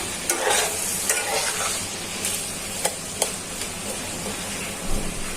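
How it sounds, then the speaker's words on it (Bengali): Plenty of chopped onions fry in a pan, a close, steady sizzle broken by several sharp scraping stirs of a spatula. "পেঁয়াজটা ভালো করে ভাজা হয়ে যায়।"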